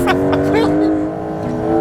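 Porsche 911 Turbo S engine holding a steady tone as the car drifts, loud and close, with a voice speaking over the top.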